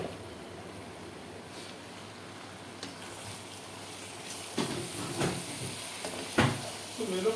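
Bitter gourd and potatoes sizzle softly in a pan, joined by scattered scraping and clinking stirring strokes that grow louder and more frequent toward the end.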